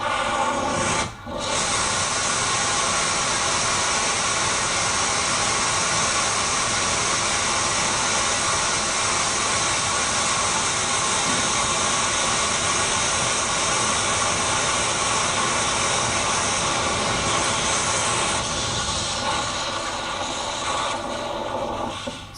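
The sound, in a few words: high impulse long duration rocket motor test firing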